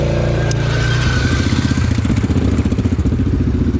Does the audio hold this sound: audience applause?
no